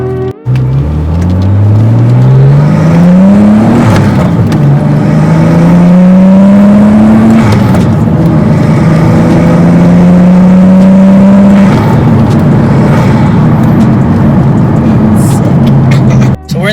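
Nissan 370Z sports car engine revving loudly and climbing through gears from inside the cabin, with rising pitch sweeps, brief lifts between shifts and a sustained high-rpm drone, heard alone without talk.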